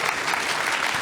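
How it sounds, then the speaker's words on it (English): Audience applause for a panel of speakers at a trans debate event, a brief, loud, continuous burst of many hands clapping with no voices on top. "if we can give a round of applause for all of our panelists"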